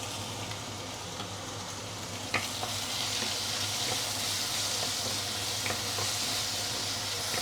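Lap cheong fried rice stir-frying in a pan with light soy sauce and white pepper gives a steady close sizzle and hiss throughout, with a few sharp clinks of a utensil against the pan.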